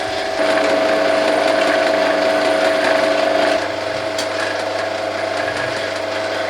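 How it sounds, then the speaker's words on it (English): An improvised mechanism unwinds a bobbin of fine wire during a restoration of an HMV No 11 gramophone pick-up, giving a steady close mechanical whirring with a humming tone that shifts and quietens partway through. "Just unwinding that bobbin again, it's no good."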